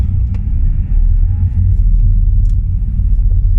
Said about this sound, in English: First gear, a real rev, and we off.